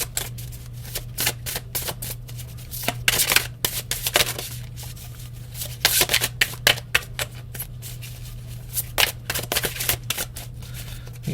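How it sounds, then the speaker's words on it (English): Oracle cards that are slightly kinked and stiff are shuffled by hand, giving close, repeated riffling and flicking bursts at an irregular rhythm, with no talking. "These cards are hard to shuffle."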